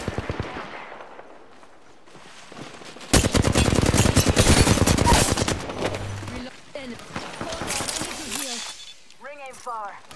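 Automatic gunfire in the battle royale game Apex Legends, a loud sustained burst of rapid shots in the middle, surrounded by quieter game effects and rising electronic chirps.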